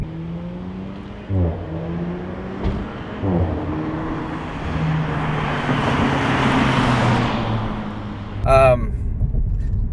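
A 2019 Audi A5 Sportback with its muffler and resonator deleted revs up through the gears, its exhaust note rising and dropping at each upshift, with someone speaking between pulls.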